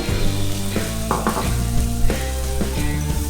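Beans and broccoli frying in a small amount of oil in a pan, a steady close sizzle with light stirring and scraping clatter throughout, no talking.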